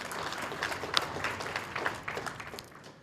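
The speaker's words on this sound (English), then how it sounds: "Another round of applause for the DG," Applause from the audience at an African Union ministerial meeting on social development, labour and employment rolls on as a dense, moderately loud clapping that tapers off toward the end.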